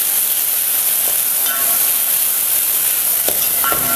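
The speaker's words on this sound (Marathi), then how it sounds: "आणि चांगलंच आपल्याला आहे ना हे मसाला परतून घ्यायचा आहे तेलामध्ये।" Coconut, garlic and coriander paste frying in oil for a Dussehra katachi amti and puran poli meal, a steady loud sizzle with occasional stirring scrapes, close and without talk.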